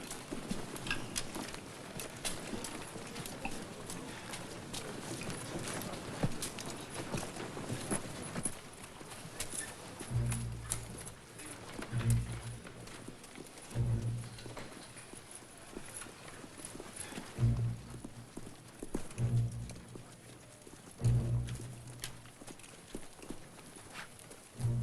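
Steady clip-clop of horse hooves on a hard surface, a regular walking rhythm with some louder strikes, under a busy background of crowd noise.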